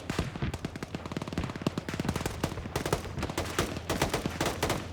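Rapid automatic gunfire in a military video game, dense bursts of machine-gun shots rattling continuously at close range, loud and unbroken, no talking.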